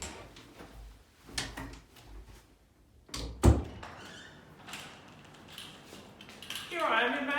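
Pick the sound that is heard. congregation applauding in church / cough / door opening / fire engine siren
door opening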